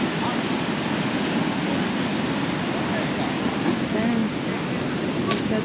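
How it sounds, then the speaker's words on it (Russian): Huge ocean waves crash along a seafront promenade on the south coast of Tenerife near Los Cristianos beach, a loud, continuous roaring surf filling the whole stretch. "я обнаружила вот такое место с огромными волнами"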